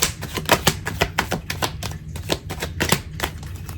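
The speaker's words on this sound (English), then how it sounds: "I'm going to shuffle this deck one more time" A rapid, continuous run of crisp clicking taps, like cards riffling quickly, close and steady for the whole stretch with no talking.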